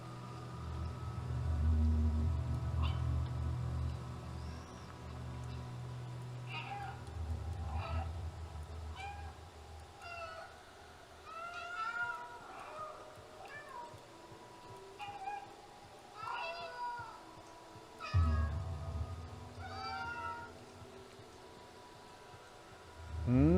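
Cats in the video game Stray meow repeatedly in short, rising and falling calls, fairly close and clear over a low hum, with occasional faint voices.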